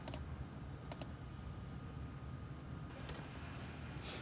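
A computer mouse clicks in photo software, sharp double clicks near the start, another pair about a second later, then fainter clicks toward the end over a quiet room hum.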